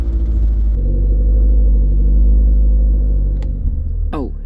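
An Audi S3 quattro's engine holds a loud, steady high-idle drone with strong low rumble during a launch control attempt in heavy rain, then eases off near the end with a brief rising squeak.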